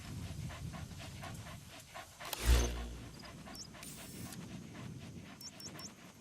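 A dog in Metal Gear Solid V pants in steady, quick breathy pulses over low game ambience, broken midway by one heavier thump, with a few faint high electronic chirps later.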